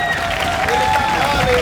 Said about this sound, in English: The crowd's loving him.